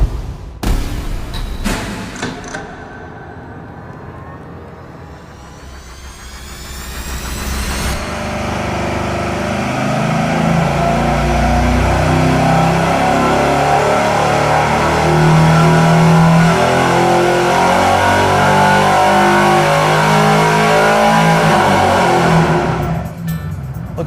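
A car engine with straight pipes and mufflers and no crossover pipe rumbles loud and close. A few sharp blips open the clip, then it settles into a sustained heavy drone that holds steady for most of the clip.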